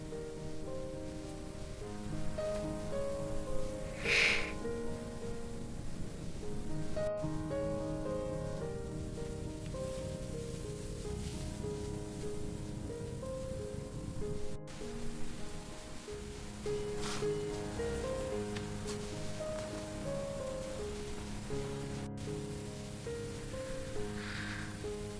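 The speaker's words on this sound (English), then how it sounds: "Listen, can you hear the whispers of the rain?" Rain falls steadily in a forest at night near a cabin, a soft, even patter on leaves and surfaces that continues throughout at low volume with no talking.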